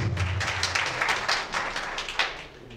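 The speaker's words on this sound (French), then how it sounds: "On s'applaudit." An audience at an official award ceremony bursts into applause, with brisk, dense clapping that fades toward the end.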